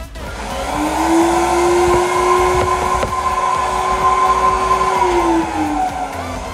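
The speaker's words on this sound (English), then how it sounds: "We have a vacuum cleaner over here." A vacuum cleaner whines loudly close by, its motor pitch steady and then dropping slightly near the end, with a few small knocks.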